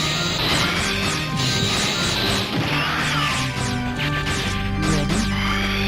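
An enemy smashes onto the ground in Mega Man Legends: loud crashing impacts with sharp, repeated metallic game effects over busy background music.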